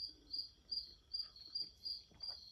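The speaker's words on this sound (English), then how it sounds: "I hope you guys enjoy the crickets because they're not going anywhere" Crickets chirp outdoors at night in a steady high trill, pulsing about twice a second, faint and unbroken, with a soft distant bird call underneath.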